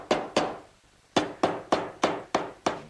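Hammer blows drive a piece down into a wooden medicine cabinet with a mirror. Two sharp, close strikes come first, a short pause follows, then six more evenly spaced blows, each ringing briefly.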